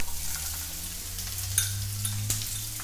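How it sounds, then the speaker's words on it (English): Onions slowly frying in a splash of olive oil in a pan give a steady, close sizzle with occasional sharp pops and spits. "of olive oil just to kind of slowly fry off the onions."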